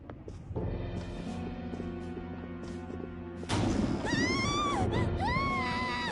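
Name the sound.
scream heard from inside, in the video game Persona 5 Royal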